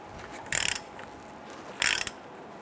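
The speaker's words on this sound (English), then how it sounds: "Using our 18mm socket with an extension, let's go ahead and loosen and remove our caliper bracket bolts." A ratchet with an 18mm socket and extension works on the caliper bracket bolts of a 2005-2010 Chrysler 300, giving two short bursts of quick ratcheting clicks, close and clear in a quiet space.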